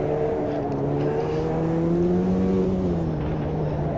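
Ferrari F40 race car engine in Automobilista 2, a steady loud droning engine note with slowly shifting pitch as it holds revs, another F40 running close by.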